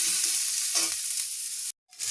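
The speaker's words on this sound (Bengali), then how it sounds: "আর এই পেঁয়াজ আর কাঁচা লঙ্কা যখন ভাজা হবে" Onion and green chili frying in a pan, a steady close hiss of sizzling oil with faint stirring, cutting off briefly near the end.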